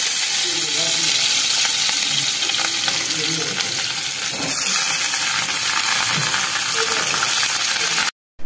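Fish is frying in a spicy masala in a pan. A loud, steady sizzle and hiss carries on throughout, with faint stirring scrapes, and cuts off abruptly at the end.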